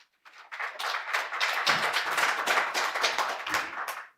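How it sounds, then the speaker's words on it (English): A conference audience breaks into steady, dense clapping that swells quickly and holds at full strength before tapering near the end, heard alone without any voices. "Please welcome him with a round of applause."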